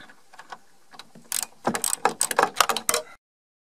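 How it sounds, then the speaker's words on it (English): Ratchet wrench loosening the door hinge bolts on a BMW E36, a fast close run of sharp clicking ratchet strokes after a few softer taps, cutting off abruptly. "since there's not much space to unscrew, it's more convenient to use a ratchet."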